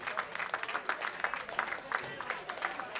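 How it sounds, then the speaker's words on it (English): An audience at the 2015 World Bowling Senior Championships men's singles offers a brief round of applause. The clapping is fairly faint and scattered, heard from a distance in the bowling hall. "getting a well-deserved round of applause for the folks in attendance."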